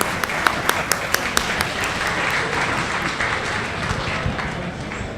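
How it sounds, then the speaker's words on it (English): A room of attendees at the close of a fall town meeting in Chelmsford claps in a loud, dense burst, with a few sharp individual claps standing out at the start before settling into even applause. "that's very heartening to have a little applause for us here in Chelmsford Telemedia"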